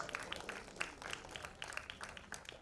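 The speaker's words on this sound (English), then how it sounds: "Keep clapping for them." Audience applause at a Bollywood trailer launch for the 2019 Hindi film Penalty, with scattered, uneven claps filling the clip at a moderate distance, some sharper claps standing out from the crowd.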